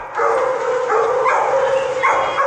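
Dogs at play give off a quick run of yips and barks, several overlapping bursts close by, under a loud, busy background.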